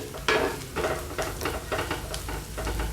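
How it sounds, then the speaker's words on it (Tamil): Curry masala powder frying in oil for a chicken masala gravy, heard as a close, continuous sizzle broken by repeated scraping stirs of a spoon in the pan, without any talking. "மசாலாவுடைய பச்சை ஸ்மெல் போகிற வரைக்கும் எண்ணெயில் வதக்கிடலாம்"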